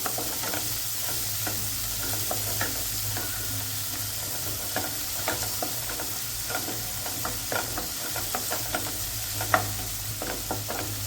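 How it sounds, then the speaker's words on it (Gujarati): Onions and tomatoes frying for simple pasta, a constant sizzle and hiss under repeated stirring scrapes and taps of a spoon against the pan, close and even throughout, no speech. "અને ડુંગળી પણ સરસ સડી ગઈ છે। એમાં 1 વાટકો જેટલા ટમેટા ઉમેરવાના છે"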